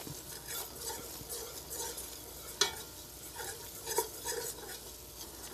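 A roux for bechamel sauce cooks in a pan while being stirred, a quiet continuous sizzle with soft scraping strokes and a couple of sharper utensil taps.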